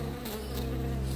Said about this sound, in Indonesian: Lebah-lebah menyengatnya sedemikian rupa